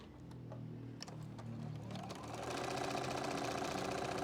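A domestic sewing machine stitches quilt pieces for an Ohio Star block: soft handling and pinning clicks first, then the motor starts up into a fast, steady mechanical whir with rapid needle ticking, close and clear.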